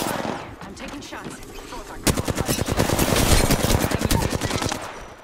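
Heavy gunfire in Apex Legends during a fight, rapid automatic bursts growing into a dense, loud stream of shots, with game voice lines briefly under the noise.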